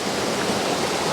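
Waterfalls pour around boulders with a dense, steady rushing roar, loud and continuous with no breaks or voices.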